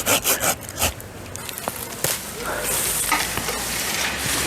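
A hand saw rasps through a branch with several quick strokes, then a steady, continuous scraping as the cut deepens.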